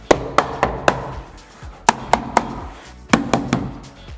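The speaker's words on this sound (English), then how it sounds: "I'm just going to tap it to the door." A wooden door slamming strip being tapped onto a door with a hammer: sharp, close knocks in three small bursts of three or four taps each, separated by brief pauses.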